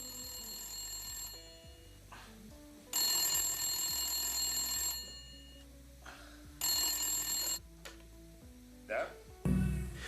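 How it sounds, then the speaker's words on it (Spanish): An old telephone rings in a humble apartment, sounding in several separate bursts of bright bell ringing with quieter gaps between them. The ringing is heard alone at moderate volume. "suena el teléfono en el humilde apartamento de Igor Kostin"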